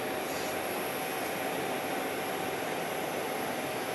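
A jet aircraft passing at Phoenix Sky Harbor International Airport, a steady broad roar of engine noise filling the whole clip without a break, loud and even, no voices.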